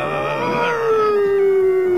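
A cartoon werewolf gives a single loud, sustained howl that slides slowly downward in pitch, heard alone and up close.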